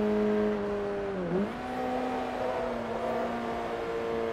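Volkswagen Golf R engine in Forza Motorsport 3 held against the rev limiter on the Nordschleife, a steady buzzing drone with a brief dip and recovery midway, close and alone with no talk.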